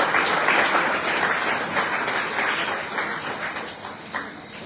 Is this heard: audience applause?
yes